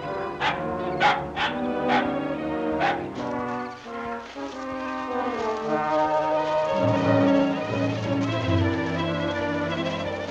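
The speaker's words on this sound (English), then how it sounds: "His dog, huh? Maybe his dog will bring him back quicker than I thought." A dog barks, yips and whimpers in a classic Jungle Jim jungle serial, a run of sharp barks at first giving way to whining and whimpering over a continuous bed of film music.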